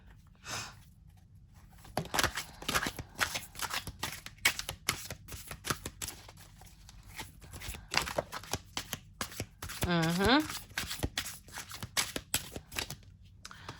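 A deck of tarot cards is shuffled by hand indoors, a long run of quick riffling and slapping bursts, close and crisp, with a brief soft breath or sigh partway through.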